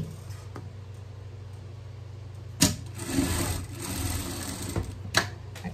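A sewing machine hums steadily while running a safety stitch on a denim or imitation-denim vest, with a few sharp clunks and a louder stretch of motor whir near the middle, close and without voices.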